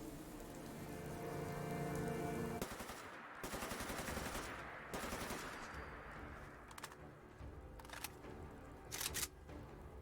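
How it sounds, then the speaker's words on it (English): Rapid automatic gunfire from a newly tried gun in Fallout 4, loud and dense bursts that carry through the first few seconds, then thinner rattling shots and scattered single cracks over a continuous hiss. "let's see how this gun shoots"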